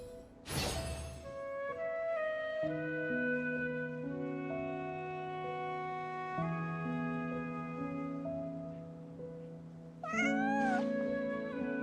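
A cat in the video game Genshin Impact gives a rising, drawn-out meow near the end, heard clearly over steady background game music, with no talking.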